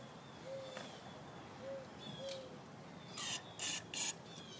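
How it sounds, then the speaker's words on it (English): Three brief hissing spray bursts of carb cleaner, close and fairly loud, come after quieter background sounds, with some faint birdlike tones earlier on. "So I gave it a couple of squirts of carb cleaner."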